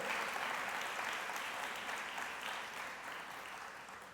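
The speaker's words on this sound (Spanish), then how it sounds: "Sí, démosle un aplauso al Señor. Un aplauso a Él." Steady applause from a church congregation, loud and sustained throughout, tapering slightly toward the end.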